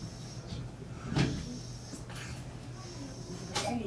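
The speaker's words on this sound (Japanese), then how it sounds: "ドアが開きます。" Doors of a Gakkentoshi Line commuter train opening, with a couple of soft thuds and sliding whooshes at moderate distance over a constant low rumble of the carriage.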